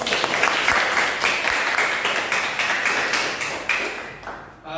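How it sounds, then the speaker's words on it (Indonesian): Applause from an audience at a student constitutional debate, clapping for each team; steady clapping with a few sharp taps, tapering off toward the end. "Ayolah kita tepuk tangan ke masing-masing kelompok."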